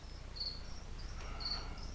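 A feeder cricket gives two short, faint chirps about a second apart, sounding thin and high over a quiet, low room hum, with no voices.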